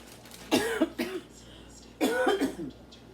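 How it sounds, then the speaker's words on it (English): Two bursts of harsh coughing, each a quick cluster of two or three coughs, close to the microphone with a short pause between. "I'm coughing away from the food"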